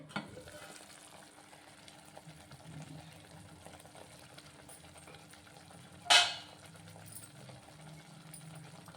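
A soft, steady sizzle of tomato masala frying in a covered pan with a little water, quiet and close, broken once midway by a brief sharp clatter.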